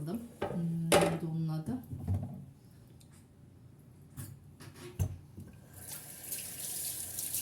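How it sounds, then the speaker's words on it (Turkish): A tray being washed under a running tap: water gushing intermittently with clinks of the tray against the sink, fairly close, brief talk in between. "Şu tepsiyi de bir yıkayayım."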